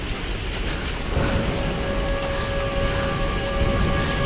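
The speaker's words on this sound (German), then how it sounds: "Es scheint ein Sturm aufzuziehen." Rain and rumbling thunder from an approaching storm in the Tomb Raider video game, a loud, dense wash of downpour with a low roll of thunder throughout, no voices.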